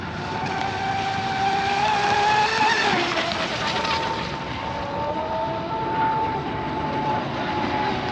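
An RC hydroplane boat on a 6S setup with a 17-14 prop runs across water, its high electric whine rising and falling steadily with the throttle under rushing spray noise, fairly close and loud throughout.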